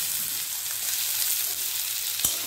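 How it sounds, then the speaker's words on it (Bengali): Onions frying in a pan with ginger, two chillies and chopped tomato added give a loud, steady, close hiss of sizzling oil that carries on unbroken, with no voices. "এর মধ্যে আদা আর দুটো লঙ্কা আর টমেটো কুচি দিয়ে দেবো।"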